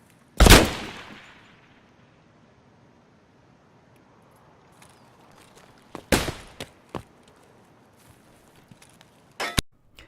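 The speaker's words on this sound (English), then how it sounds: "he very soon after spots me and we start returning fire" A gunfight in the video game Escape From Tarkov opens with one loud, sharp shot that rings out in a long echo. Quieter bursts and single shots follow after a pause, and one more loud crack closes the exchange.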